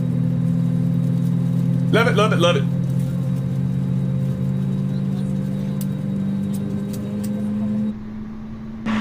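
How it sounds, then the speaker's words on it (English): Jet airliner engines idling at a gate in Microsoft Flight Simulator 2020 at Toronto Pearson, a steady low hum and drone running throughout, with a person talking briefly over it near the start. "God, those engine sounds just amazing,"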